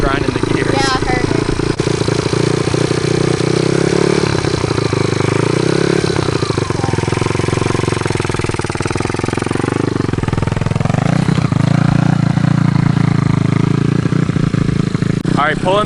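A dirt bike ridden by a beginner still learning the clutch, its engine droning steadily with a wavering pitch that rises and falls through the whole stretch, close and loud.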